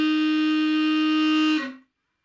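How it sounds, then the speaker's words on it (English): A harmonica holds one note while the player hums into it, producing a buzzing, growling tone that sustains for about a second and a half and then cuts off, close and loud. "then you get this funky growl"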